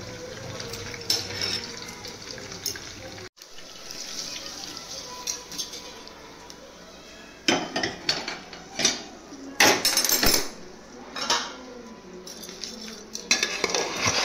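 Rice is mixed by hand with fried dried chillies, salt and oil in a metal dish, with intermittent scraping and clinking bursts that grow busier toward the end.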